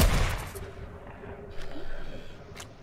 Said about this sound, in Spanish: Yo me estoy fumando lo de los disparos